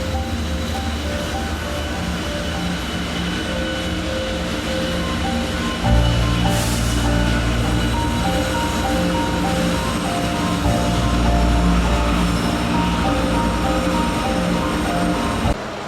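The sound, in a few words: freight train passing by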